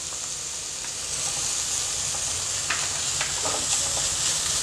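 Grated carrots with capsicum stir-frying in a pan on high heat, a steady bright sizzle with occasional scraping stirs, close and alone without talk.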